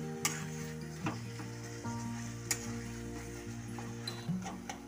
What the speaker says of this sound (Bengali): চিকেন কিমাটা দেওয়ার পর তেলের সঙ্গে ভালো করে ভেজে নেব